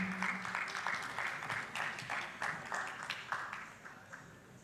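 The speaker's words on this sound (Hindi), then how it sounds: "आप सभी की जोरदार तालियां प्रणाम के माध्यम से मंच तक पहुंचेंगी।" Applause from the audience at a cultural department and Shri Ram Janmabhoomi Teerth Kshetra event in Ayodhya, rhythmic clapping heard faintly and at a distance, pulsing in regular bursts.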